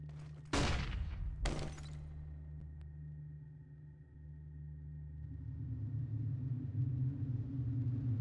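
A flashbang grenade in CS:GO pops with two sharp, loud bangs close together, followed by a sustained low ringing drone that lingers and swells.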